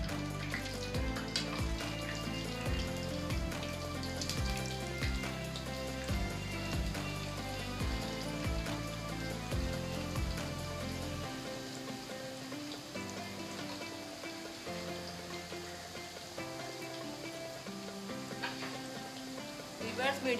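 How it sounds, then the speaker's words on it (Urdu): Chicken threads fry in hot oil in a wok (karahi), a dense continuous crackling sizzle over a steady low hum, close and even throughout with no talk. "آئل گرم ہو گیا، اب ہم اس میں چکن تھریڈ ایڈ کر دیں گے"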